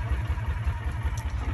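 A 2000 Kawasaki Mule 2510 4x4 utility vehicle engine idles after several minutes of running, a quiet, steady low rumble with a regular pulsing chug and faint clatter, heard alone.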